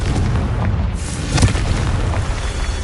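A deep booming blast from the Confringo fire spell in Hogwarts Legacy, a loud low rumble swelling around the middle of the clip over constant heavy game noise.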